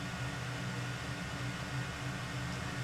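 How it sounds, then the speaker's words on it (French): Fans of an Elegoo Centauri Carbon 3D printer run at full speed together, a steady, even whir with a low hum underneath, close by and with no speech. "si je vais allumer tous les ventilateurs, ça vous allez peut-être entendre le bruit aussi"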